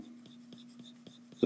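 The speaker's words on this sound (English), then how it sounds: "so we can really sketch in" Pencil sketching a cartoon dragon's body on paper: soft, repeated scratchy strokes at a steady rhythm, close and quiet, with no talking.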